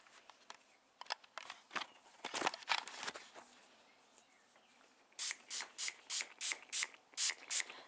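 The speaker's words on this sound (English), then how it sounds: "So now let's spray very," Physon 20 antifungal solution is sprayed onto a cattleya orchid from a hand sprayer, a run of about eight quick, evenly spaced hissing bursts, preceded by faint handling rustles and clicks.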